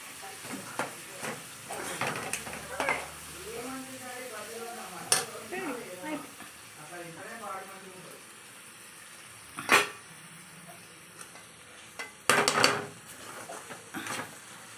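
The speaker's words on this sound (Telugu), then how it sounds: "కాకరకాయ కారం వేసినాక కలపాలి." Bitter gourd fry with chili powder stirred in a pan, soft scraping and clinks of a utensil against the pan with faint sizzling, intermittent and close, with a person talking over it.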